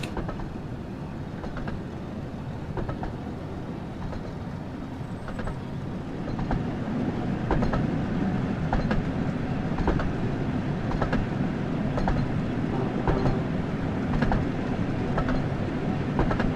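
Steady rumbling train noise from the Thomas & Friends: Wonders of Sodor game, a diesel engine running at about 30 mph, with a continuous low rolling drone and regular faint clicking rail beats that swell slightly louder midway.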